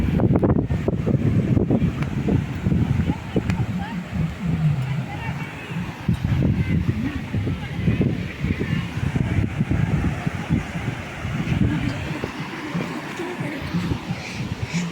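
Strong wind blowing across the Arabian Sea beach at Murud, a steady loud rumble buffeting the microphone throughout, with surf and distant voices faintly beneath.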